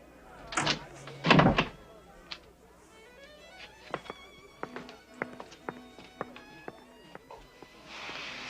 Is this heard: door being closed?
yes